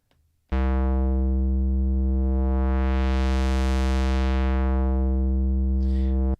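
A sustained buzzy synthesizer tone in Bitwig Studio with rich harmonics, shaped by audio-rate LFO modulation, its timbre sweeping slowly brighter and then duller in one long cycle before cutting off.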